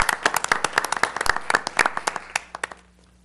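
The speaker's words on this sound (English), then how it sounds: "How about a round of applause for Valley View?" A small group at a school board meeting claps briefly, a few dozen sharp close hand claps in a quick rhythm that thin out and fade after about three seconds.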